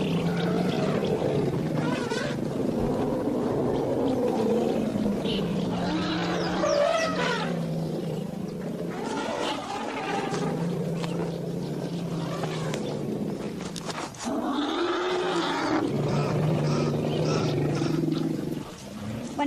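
A reunited elephant family greets each other noisily, with loud overlapping rumbles, roars and trumpeting calls that continue without a break, close and layered over a low, constant rumble.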